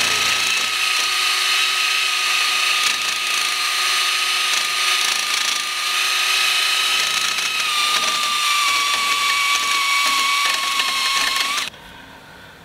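A power drill with a 9/32 bit bores a hole, its motor whining steadily and loudly for about eleven seconds before cutting off abruptly, with a slight drop in pitch as it bites in.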